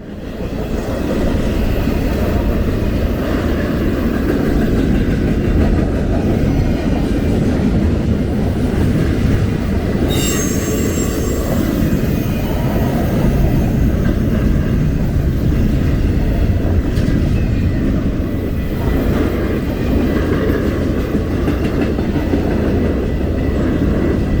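BNSF freight locomotives 6778, 5847 and 7225 rumble loud and steady at close range in Rochelle, Illinois, on a rainy day, a continuous heavy engine drone with rail noise lasting throughout.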